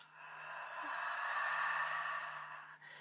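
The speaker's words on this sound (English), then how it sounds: "And now slow the breath. Exhale out through the mouth." A slow, breathy exhale through the mouth during Pilates deep-breathing practice, one long steady airy rush close to the mic that swells and then fades, with no talking.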